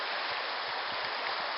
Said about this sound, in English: This is Bright Angel Campground and Bright Angel Creek.